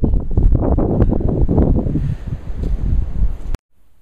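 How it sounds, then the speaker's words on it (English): Loud, blustery wind buffeting the microphone, rumbling and gusting for several seconds before cutting off abruptly. "it's windy"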